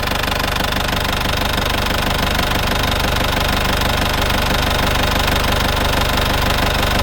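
A loud diesel engine of a 1995 Isuzu TFR cab pickup idles steadily close by, with a rapid, even knocking rumble and no pauses or voices.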